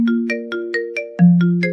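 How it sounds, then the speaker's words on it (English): Cartoon phone ringtone in an animated Vyond movie: a loud, clean electronic melody of repeated short tones, rising in pitch with a brighter final pair, heard alone without talk. "My phone is ringing."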